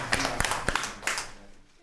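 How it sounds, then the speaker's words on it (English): A secondary-school religion and ethics class claps for a student, a short scattered burst of hand claps that thins out and fades within two seconds, with a faint voice underneath. "Should we give her a clap?"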